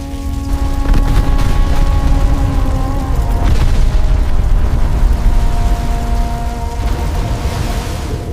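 A heavy, rumbling explosion of a warship torpedoed by a submarine at sea roars with dense, crackling noise, a sustained low boom and debris-like hiss.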